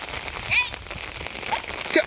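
Steady patter of rain on an umbrella overhead, with faint chirps and short bird-like calls rising above the hiss.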